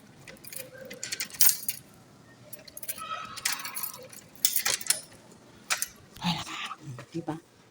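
Keys jangling while entering a newly bought condo unit, several bright metallic rattles in short bursts with a few clunks, close, with people talking in between.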